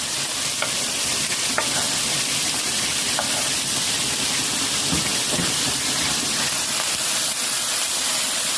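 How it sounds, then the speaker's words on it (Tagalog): Bean sprouts sautéing in a pan with garlic and onion, a steady loud sizzle with occasional stirring scrapes, close up and continuous, no voices. "Magigisang togi po ako. Isalang ko na po yung piniritong togi."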